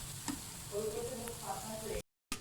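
Chana dal roasting in ghee in a pan, a steady soft frying sizzle with faint stirring scrapes, close and continuous, then cut off briefly.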